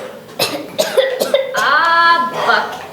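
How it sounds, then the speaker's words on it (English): Several harsh coughs in quick succession, close and loud, followed by a strained, raspy vocal sound, from a performer on stage at a school entertainment night. "you've got to do something about that cough."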